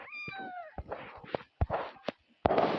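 Cats meow in the Toca Boca video game, a descending cartoonish meow followed by several short clicks and brief pops spaced irregularly, fairly close and clear.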